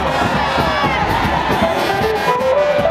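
A huge crowd at a fisheries ceremony in Lantélé roars and cheers continuously, a dense wash of many voices shouting and whooping at steady high volume throughout.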